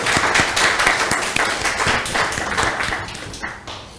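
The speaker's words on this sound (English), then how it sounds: "the wreaths on the back door, I think they need a round of applause," A small group claps steadily, the individual claps distinct, tapering off and growing quieter toward the end.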